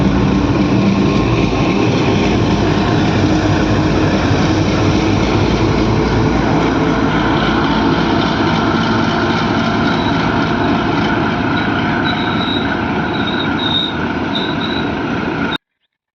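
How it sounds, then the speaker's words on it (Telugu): A goods train hauled by a WDG-6G electric locomotive rolls through a railway station as a loud, steady rumble lasting throughout before it cuts off abruptly. "ఒక గూడ్స్ ట్రైన్ వచ్చింది,"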